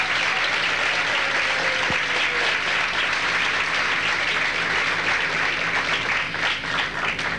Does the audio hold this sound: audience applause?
yes